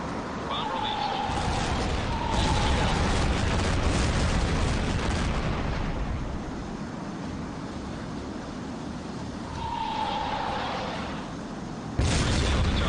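Bombs strike rebel warehouses in Tom Clancy's H.A.W.X., heavy booming blasts rolling under jet engine roar, with radio voices talking over the rumbling.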